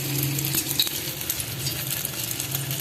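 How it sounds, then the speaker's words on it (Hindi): Egg-dipped chicken and potato cutlets frying in a pan, giving a steady close sizzle with a light crackle and a faint utensil tick, no voices. "और ये फ्राई कर रहे हैं हम"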